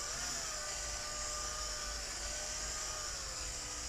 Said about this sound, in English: Just allow the weight of the drill to slowly grind away the opening.